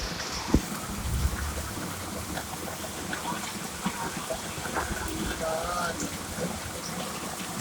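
Steady heavy rain pours down in a dense, continuous hiss, with a few louder drops and splashes standing out.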